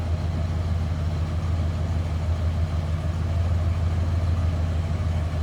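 A 1969 Buick Electra 225 Custom Convertible V8 engine idling smoothly with a steady, low rumble, even with no revving, close and constant throughout.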